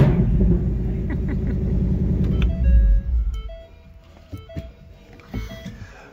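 2024 Ford Mustang Dark Horse engine running, a deep close rumbling idle that swells at about three seconds and then drops away, leaving faint tones and clicks.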